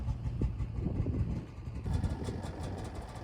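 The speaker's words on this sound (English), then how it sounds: "he's going to warm up the snow machine before he goes into the valley and checks his traps" Snowmobile engine warming up at idle outdoors at 20 below in remote Alaska, a steady low rumble with a slight surge midway, moderately near and alone.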